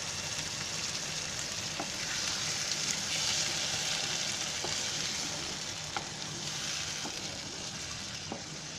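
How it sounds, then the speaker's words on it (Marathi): Water is poured into ground masala in a pan for cooking potatoes in a cashew curry, producing a continuous soft sizzle and bubbling with occasional small pops and clicks. "आणि बटाटे शिजायचे आहे ना त्याच्यासाठी आपण पाणी ओतायचं आहे."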